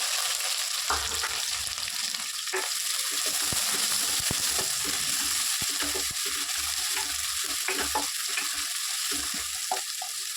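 Crushed garlic and onions frying in a pan for a sprouted fenugreek curry, a loud steady sizzle with intermittent scraping and tapping from stirring throughout.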